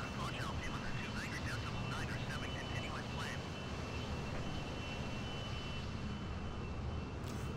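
Steady propeller engine drone from a Spitfire in Microsoft Flight Simulator, a continuous game aircraft engine sound with faint chirping tones riding over it and no break throughout.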